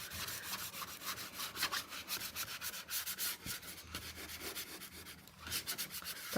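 A Catalyst Polytip bristle bright paintbrush, size 6, scrubbing on sketchbook paper: close, rapid rhythmic bristly rubbing strokes, alone without talk.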